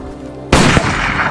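A single gunshot fires at a shooting range in an Iranian film, a sharp loud burst cutting in after a low background hum, followed by a sustained noisy tail as it fades.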